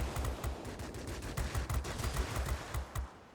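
Machine guns on a fighter plane in World of Warplanes, a Yak 3RD, firing in rapid continuous bursts for about three seconds, loud and close with no talking.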